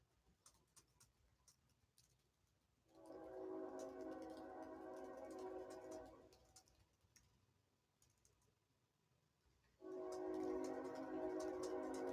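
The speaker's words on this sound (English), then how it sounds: "sorry if you hear the train rocking and rolling there behind us" A train passes close behind a house, its heavy rumble swelling in two loud stretches separated by a quieter pause, over faint background clicks.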